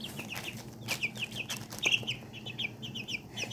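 Tiny Serama chicks and pheasant-chicken hybrid chicks clucking and cheeping in a steady stream of short, high peeps, close by, with no voices.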